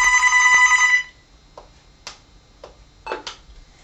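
A rotary telephone bell rings loudly with a bright metallic trill for about a second, then falls quiet apart from a few faint clicks and short bursts.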